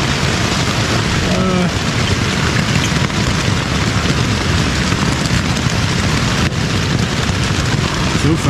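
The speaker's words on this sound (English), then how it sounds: "Here comes the rain." Steady, loud rain drums on a tent at a beach campsite as a storm hits during a backpacking trip, a dense unbroken hiss that fills the whole stretch with no pauses.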